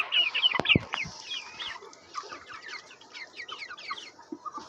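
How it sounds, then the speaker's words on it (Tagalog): A chick peeps and ducks feed in short bursts, with a few sharp taps near the start and busy chirping throughout, close by with no talking. "tingnan mo tong sisiw na to, nakikipag-agawan sa pato"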